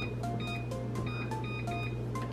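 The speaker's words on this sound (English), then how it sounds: "my timer's going off, so let's check on our rice" A kitchen timer goes off while rice is simmering, a string of short high electronic beeps in an uneven melodic pattern over a steady low hum, close and fairly faint, with no talk.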